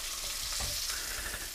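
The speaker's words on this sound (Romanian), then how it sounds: "E bine prăjit." Fish fries in a pan with a loud, continuous sizzle and crackle, close up, with a few brief stirring or shifting knocks and no talking.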